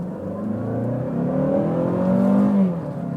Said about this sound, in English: The engine does not feel happy when being wrung out.